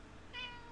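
A single short cat meow, a brief high-pitched call rising out of quiet room noise and fading within a fraction of a second, with no speech around it.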